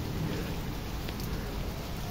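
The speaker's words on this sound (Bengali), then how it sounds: "আল্লাহ তাআলার মেহেরবানিতে বৃষ্টিটা হচ্ছে" Steady rain falling outdoors, a dense, even hiss of drops on surfaces that stays constant throughout with no voices.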